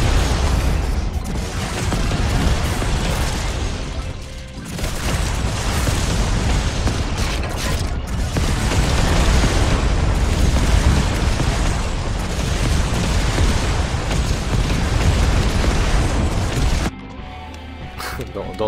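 Continuous dense booming blasts from airstrikes and rocket launcher fire in the zombie survival game Yet Another Zombie Survivors, loud and sustained for most of the clip before cutting off sharply near the end.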